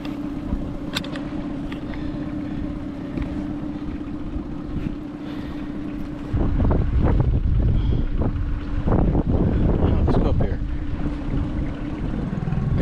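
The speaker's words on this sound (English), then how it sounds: "It's just so much wind right there." Strong wind roars and buffets the microphone outdoors beside a 12-foot Saturn heavy-duty fishing boat. The low rumble is constant and gets heavier and gustier about halfway through, with no speech.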